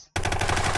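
Rapid automatic gunfire in the video game Brick Rigs starts abruptly after a brief quiet moment, then continues as a dense, loud burst of shots.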